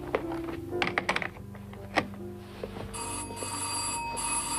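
A bell rings in a 1970s French detective drama interior, a short ringing burst amid thumps and handling noises, followed by a sustained electronic-sounding tone, fairly quiet with no talk.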